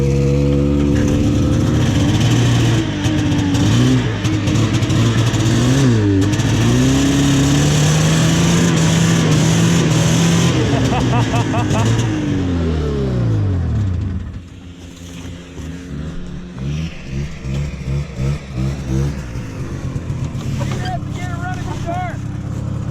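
A vintage snowmobile engine revs hard as the machine climbs directly up a snowy hill, a loud sustained drone with rising and falling pitch that drops lower and steadier near the end, with people talking over it.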